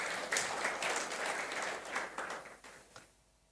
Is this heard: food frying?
no